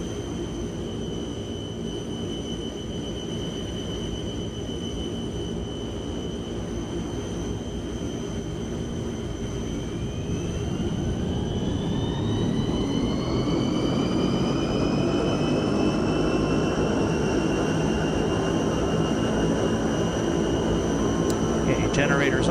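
Jet engine of a Fokker F100 airliner spooling up, simulated in Microsoft Flight Simulator 2024: a steady cockpit hum that climbs into rising turbine whines and grows louder partway through, then holds at a higher pitch.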